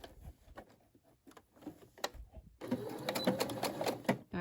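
A Brother SE600 sewing machine stitches a scrunchie, starting with scattered ticks and short bursts, then running into a steady, close mechanical whir with clicking toward the end.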